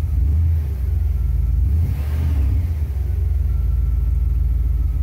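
A 1975 Cadillac Fleetwood V8 idles at around 800 to 900 RPM with a steady, loud low rumble and a slight rise in revs midway, heard close and alone.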